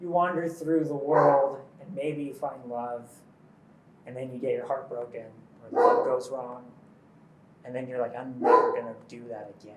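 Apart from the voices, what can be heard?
dog barking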